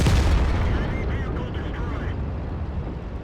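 A tank cannon on an AMX ELC bis fires in World of Tanks on the Prokhorovka map: a loud, close boom at the start that fades into a low, rumbling tail with faint battle noise.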